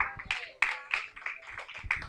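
A church congregation claps in a loose, roughly regular rhythm, sharp hand claps repeating under a tonal voice or music.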